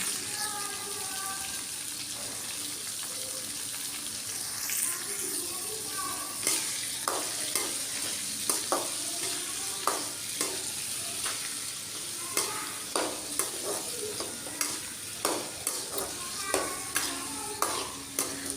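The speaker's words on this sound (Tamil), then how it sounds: "நம்ம கட் பண்ணி வச்சுருக்கிற வெங்காயம் தக்காளியும் போட்டு நல்லாவே வதக்கிடுங்க." Chopped onions and tomatoes sautéing with salt in a pan for a fish curry, a low sizzle broken by repeated sharp spoon scrapes and taps that come faster toward the end.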